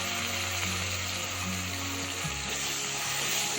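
Ginger garlic paste and mint sizzle steadily in a hot pan for an egg biryani, a dense, even frying hiss heard close up and without talk.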